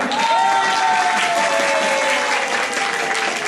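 An audience of Lirboyo boarding-school students at a scientific debate applauds a teacher from the affirmative side. Steady, dense clapping runs loud throughout, with a faint tonal hum beneath it.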